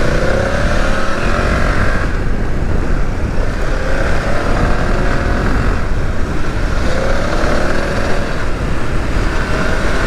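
A BMW F900GS adventure motorcycle rides a winding country road, its engine droning steadily with gentle rises and falls in pitch under heavy wind rush, loud and continuous throughout.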